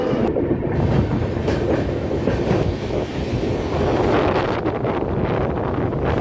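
The Ara Ranchi Express rolling on rails behind a WAP-7 locomotive, a steady loud rumble with faint clickety-clack of the wheels and wind noise buffeting the microphone.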